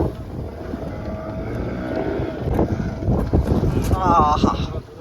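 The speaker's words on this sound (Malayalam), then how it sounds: "നല്ല കാറ്റുണ്ട്" Strong wind roars across the deck of a fishing boat during a deep-sea storm, a steady broadband rush with gusting swells, while people talk over it.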